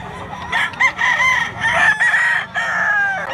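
A bullstag rooster at a cockfight derby in Mantalungon, Barili, Cebu crows loudly and close, a drawn-out call broken into several strained segments, with faint background murmur.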